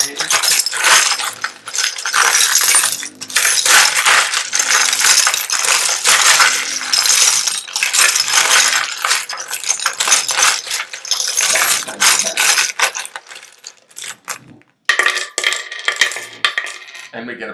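Many pillow coins tumble and clink in a dense, continuous metallic cascade during the Charm divination event game, loud and busy for most of the stretch, then thinning into scattered clinks near the end.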